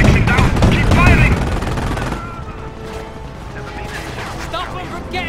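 Rapid machine gun bursts and scattered gunshots from a Company of Heroes battle over a bridge, loud and dense at first and then easing to sparser shots under a busy mix of battle noise and game voice lines.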